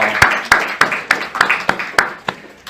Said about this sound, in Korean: 우리 크게 박수로 영광 돌리겠습니다.